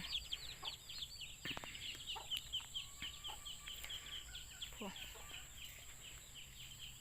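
Chickens and chicks on a rural farm cluck and peep in a steady chorus of short calls, fairly faint and close, with a voice talking at times over them.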